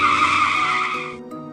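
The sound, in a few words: car braking hard, tyres skidding in rain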